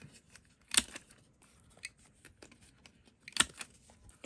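Scissors snip around the edges of a specimen card laminated with shipping tape, quiet scattered cuts with two louder, crisper snips, close up and with no talking.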